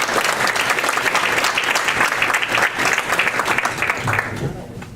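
Steady applause from an audience at a community forum on the school-to-prison pipeline, a dense clapping wash that holds for about four seconds before thinning out at the end.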